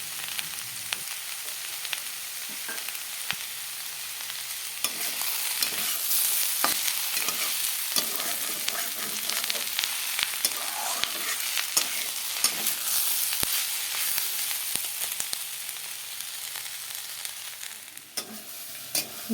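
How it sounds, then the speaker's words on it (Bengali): Potatoes fry in a pan for a long stretch, a steady sizzle with frequent scraping and stirring clatter from a utensil, close and fairly loud with no talking. "আরও ভালো করে কিছু সময় লাল করে ভেজে নেব"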